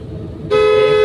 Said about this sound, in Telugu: హార్న్ కొట్టు ఒకటి హార్న్ కొట్టు